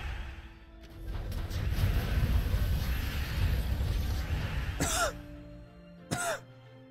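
Two short, sharp coughs break through a steady rumbling background, one near the five-second mark and a second, smaller one shortly after.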